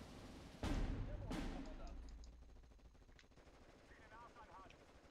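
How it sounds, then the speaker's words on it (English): Machine gun fire in the World War II strategy game Steel Division 44 crackles in two sharp bursts, followed by fainter distant shots and battlefield noise that fade away. "Let's move up the machine gun also."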